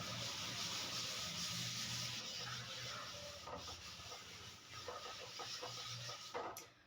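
A classroom board erased by hand, a steady near rubbing and scrubbing hiss lasting several seconds with a faint low hum underneath, and no talk.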